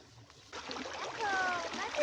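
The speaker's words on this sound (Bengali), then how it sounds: "আজকে হচ্ছে ডিপ চালু করছে, তো আমরা এখন ডিপ চালু করাটা দেখাবো।" Water gushing from a deep tube-well pump that has just been switched on in a Bangladeshi village, a steady broadband splashing flow that swells louder after the first half second and keeps running.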